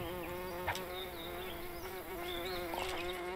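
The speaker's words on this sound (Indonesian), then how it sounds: "Kalau dari suaranya ini adalah lebah." A bee in the farming video game Everdream Valley buzzes continuously with a steady drone, moderately close, alone without talk.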